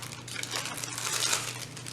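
A small foil sheet from a nail dip powder kit crinkles softly and continuously up close for about two seconds, with no talking.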